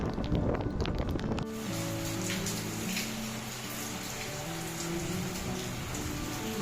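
Steady rain falls outdoors, a dense continuous patter on surfaces with some wind noise, loud and close at first before settling into a constant wash under a faint tonal hum.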